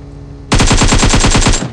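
Automatic gunfire in a mobile shooter video game, a sudden loud burst of about a dozen rapid evenly spaced shots that stops abruptly after about a second.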